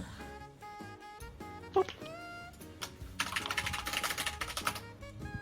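Keys clattering on a computer keyboard, a steady run of light clicks with a denser burst of fast typing toward the end, heard over game music and background sounds during a hangout stream.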